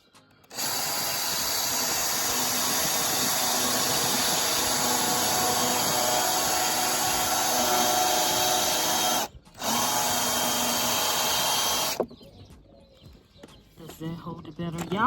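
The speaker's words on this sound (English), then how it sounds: "I think I'm gonna drill" A power drill whines steadily into wood inside a van conversion for about nine seconds, cuts out briefly, then runs again for a few seconds before stopping, up close and loud.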